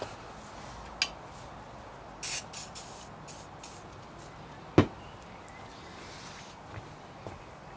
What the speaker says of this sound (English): Usually a spray of WD-40 does the trick.